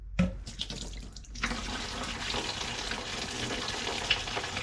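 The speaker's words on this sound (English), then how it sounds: "we're gonna take the hose off and let the water drain" Coolant water pours and splashes steadily from a hose taken off a Can-Am Maverick X3 after a brief clunk, a continuous rushing flow close by.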